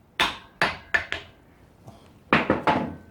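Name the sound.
hammer tapping universal joint yoke clamped in vise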